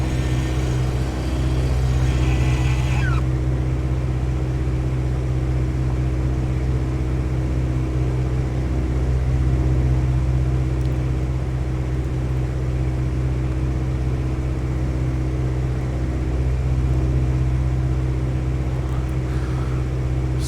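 Aircraft engine drone inside the P3D flight simulator during a landing approach with wheels down, a steady, loud low hum with a brief higher burst at the start, then continuous and unchanging to the end.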